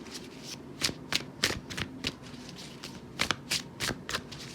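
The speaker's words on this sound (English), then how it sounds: "Let me just get 3 more cards." Tarot cards are shuffled by hand, a series of crisp riffling bursts and soft slaps in an irregular rhythm, close and fairly loud.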